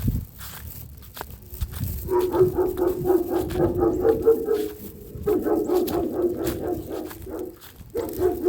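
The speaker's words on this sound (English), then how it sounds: "Angry dog, check." An angry dog barks repeatedly near a delivery driver's stop, in bursts of loud, rough barking and growling with brief pauses between them and no talking.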